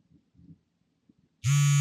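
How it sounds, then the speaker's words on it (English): A phone buzzing sound effect, a short harsh electronic buzz that cuts in sharply after a near-silent stretch and stays loud and steady to the end. "His phone buzzed."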